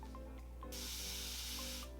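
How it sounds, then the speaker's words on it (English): A hand-pumped water spray bottle misting onto 4C natural hair gives a single long, close, airy hiss lasting over a second, preceded by faint clicks of the trigger and set against a steady background hum. "I'm gonna spray it here so you guys can kind of see"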